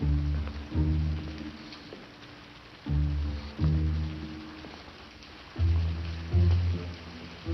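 Rain falls on a November night as a steady hiss beneath a dramatic orchestral score whose low, swelling chords pulse in repeated waves.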